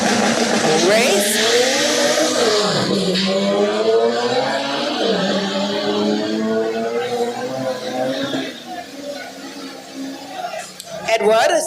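Drag race cars in an 11-second class run tear down the strip with loud, rising engine wails that climb and shift in pitch, heard near and overwhelming, with crowd noise and an announcer's voice in the mix.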